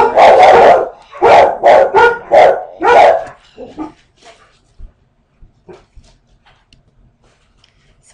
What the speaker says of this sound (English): So you got to hear dogs.